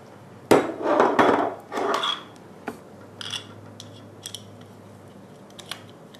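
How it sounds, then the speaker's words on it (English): Handling an Ego LPR paintball gun's back cap, with a few sharp metallic clicks and scrapes as parts slide and screw together, close and fairly quiet, fading to sparse light taps. "slide it back in, screw the back cap back on"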